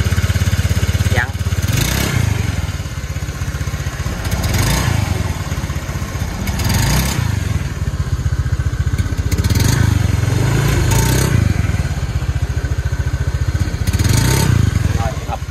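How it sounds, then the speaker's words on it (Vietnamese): A Honda Air Blade scooter being treated for a throttle hesitation fault revs hard again and again in a repair shop, loud and close, its engine surging and clattering in repeated bursts. "Dặn ga lên."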